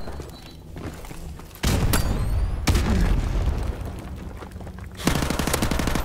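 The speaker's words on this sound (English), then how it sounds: "And a grenade right to the back." A grenade explodes in a first-person shooter Team Deathmatch match on the Vacant map. Two loud, close booms ring out amid scattered gunfire, followed by a sharp burst of MP5 submachine gun fire. No talking is heard.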